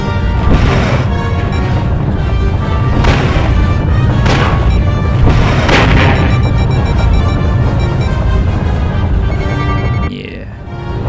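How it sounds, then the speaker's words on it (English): Torpedo launch and explosion in the XWVM space combat game, loud continuous rumbling blasts and booms layered densely for about ten seconds, then dropping off sharply. "So if I launch the torpedo like this"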